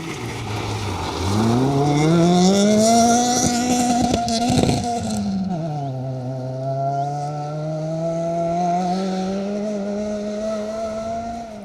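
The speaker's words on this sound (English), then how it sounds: "Just missing his gearing slightly there in the Peugeot." A Peugeot rally car charges along a stage at the Greystoke Stages 2025 rally, its engine note climbing loud and then dropping abruptly at a fumbled gear change before pulling strongly again.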